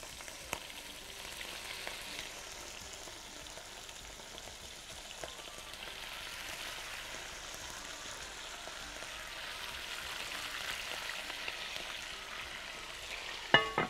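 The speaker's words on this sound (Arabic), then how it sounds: "هنحط الزيت كده. هنبتدي بقى نحط الستيك كده." Steak frying in oil in a pan gives a soft, steady sizzle and crackle throughout, faint and continuous, with a few small clicks and a brief clatter at the end.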